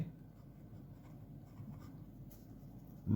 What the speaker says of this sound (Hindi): सो यहाँ पे हम लिखेंगे